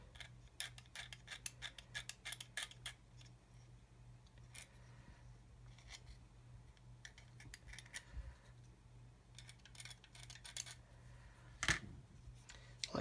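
Someone trims a plastic part for an Airfix 1/32 Humber scale model kit, making faint, close snips and ticks at irregular intervals over a low steady hum.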